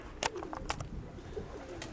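Pigeons coo softly beside a dovecote outdoors, a few low rolling calls close by with light rustling and faint wind, and no one speaking.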